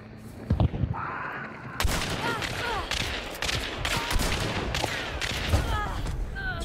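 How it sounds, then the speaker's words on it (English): Shotgun blasts and other gunfire from Hunt: Showdown, loud booming shots with a rattle of further fire behind them, set in a busy game soundscape with brief voice sounds. "Two shots from a shotgun didn't kill him."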